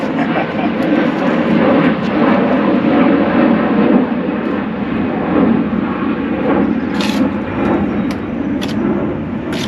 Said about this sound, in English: You'll hear some airplanes today